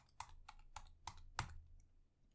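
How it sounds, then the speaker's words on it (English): Keys pressed on a Mac keyboard while entering a password, five distinct, close clicky taps at an even pace, then a faint extra tap, in an otherwise quiet room. "So I'm going to type my password."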